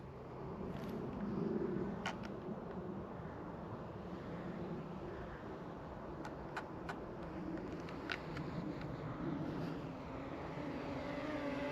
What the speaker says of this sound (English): let's see how fast this drone goes